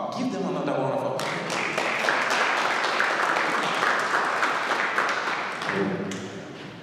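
An audience at a summit panel event breaks into loud, sustained applause for several seconds, then it fades as a voice comes back in.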